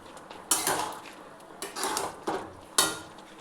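A metal lid set onto a cooking pot of simmering potatoes: several sharp clanks and rattles, one after another, close by and without talk.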